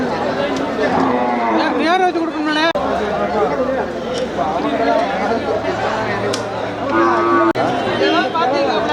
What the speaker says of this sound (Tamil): அங்கே தான் மாடு.